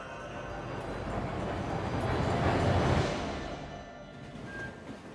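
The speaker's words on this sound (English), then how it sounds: "This is how you travel by train, zipped along at a bracing 25 kilometers per hour" An open-air train rolls along the rails at a slow 25 km/h, a steady loud rumble and rattle that swells and then eases, with no talk over it.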